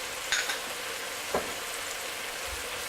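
Ginger garlic paste frying on high flame for a shrimp malai curry, a loud continuous sizzle broken by a few brief scraping stirs of a utensil in the pan.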